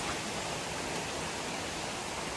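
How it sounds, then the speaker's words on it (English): A forest waterfall in Meghalaya pours in a steady, dense rushing wash, loud and close, with no talk over it. "you're finally in Meghalaya waterfall and you can see the waterfall"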